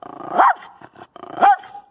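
A dog gives two loud, close barks about a second apart, each a rising-falling yelp with some growly rumble in between.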